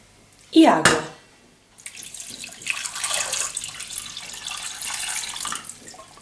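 Water pours from a tap into a cooking pot holding garlic, half an onion, cumin and salt for chicken-stuffed rice. A steady, fairly close stream runs for several seconds after a brief clunk of the pot.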